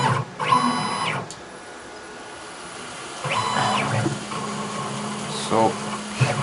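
A CNC lathe cutting threads, running in a workshop as a steady machine hum with a few louder mechanical bursts and whirring passes, heard fairly close.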